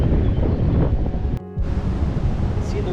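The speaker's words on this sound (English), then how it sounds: "See the river rushing by" A river rushing by below a bridge or path on a velomobile ride along the Eisack valley cycleway between Trento and Brixen, a steady broad wash of water and wind noise with a brief dropout partway through.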